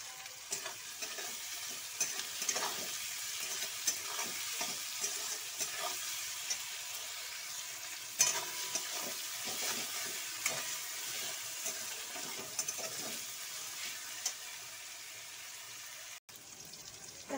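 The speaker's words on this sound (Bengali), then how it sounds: "এখন পেঁয়াজটা ভাজা হয়ে গেছে" Sliced onions frying in oil in a pan for a spicy katla fish curry, a steady close sizzle with irregular scraping stirs throughout, no voices.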